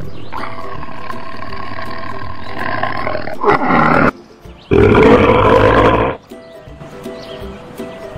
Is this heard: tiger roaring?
yes